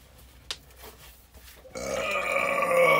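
A low, drawn-out burp rises after a brief sharp click, sounding close and fairly loud, with a rough grumbling tone that carries to the end.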